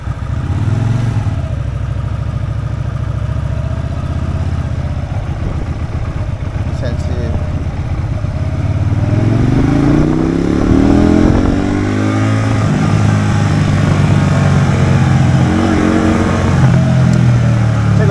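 A Benda Greystone BD250 twin-cylinder 250 cc motorcycle engine runs at a steady idle, then revs in rising sweeps before settling back down. It is loud and close throughout, with faint voices underneath.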